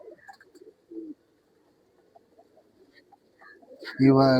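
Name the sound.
pigeons cooing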